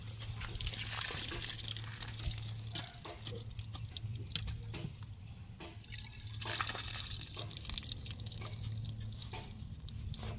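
Water gushing from a newly built hand-pump well, a close, steady splashing flow with drips, broken by brief pauses and a low mechanical hum underneath.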